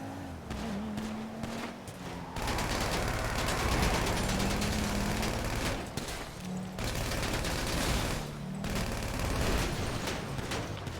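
Gunfire in GTA 5 Online: bursts of rapid shots crackle in repeated volleys over a running car engine drone, with short pauses between the bursts.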